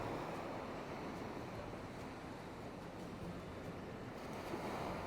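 Surf washing onto Cha-am beach in Thailand, a steady broad wash of waves with some wind noise over the microphone, continuous and fairly quiet with no voices.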